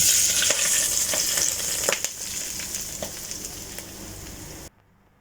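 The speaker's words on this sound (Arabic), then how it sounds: "طبعا الأكلة ما بتكمل من دون طشة السمنة والمكسرات" Hot ghee poured over nuts such as almonds and golden raisins sizzles and crackles loudly and close, with small pops fading before it cuts off abruptly.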